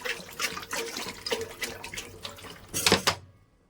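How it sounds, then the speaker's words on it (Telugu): About two litres of water pours and splashes into a cooking pot for rice in a continuous stream, swelling louder briefly before stopping abruptly. "ఓ రెండు లీటర్ వాటర్ పోసుకుంటున్నాను"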